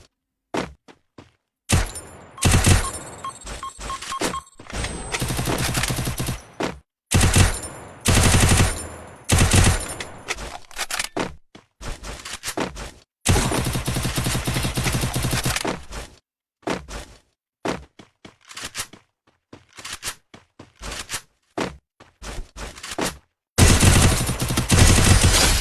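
Rapid automatic gunfire from a UMP submachine gun in a shooting video game, loud bursts of varying length broken by short silences, with heavier continuous volleys toward the end.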